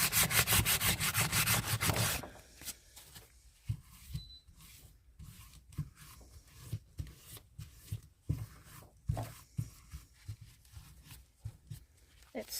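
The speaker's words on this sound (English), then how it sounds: "Yeah, the sandpaper's not touching it." Sandpaper rubbing against a ceramic resin tray mold in short, uneven scraping strokes, close and fairly quiet, after a brief stretch of steadier rubbing at the start.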